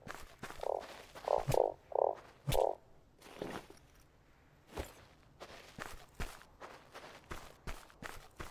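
Frogs croak in the survival video game StarSand: about five short, buzzy croaks in quick succession early on, mixed with steady in-game footsteps that continue after the croaking stops.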